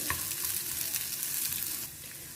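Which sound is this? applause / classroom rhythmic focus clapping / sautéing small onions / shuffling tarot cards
sautéing small onions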